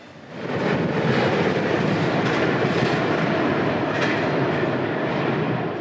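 A freight train rolls past on the A Line near Folkston, a loud, steady, close rumble of wheels and cars that swells in at the start and holds without pause, with no voices.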